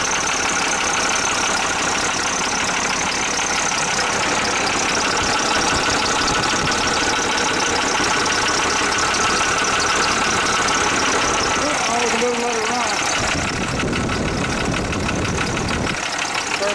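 An International truck engine idles after a cold start, a loud, steady rumble with a rough knocking texture that runs throughout, while a voice talks over it near the end.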